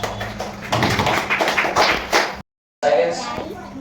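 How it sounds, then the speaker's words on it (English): Students in an English class clap for classmates, with uneven tapping claps and children's voices mixed in, then a brief dropout followed by more clapping. "give them a big round of applause"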